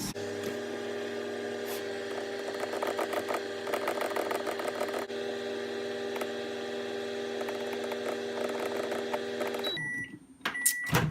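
A microwave oven hums steadily with a buzzing, whirring drone for about ten seconds, then stops with a few clicks and a beep.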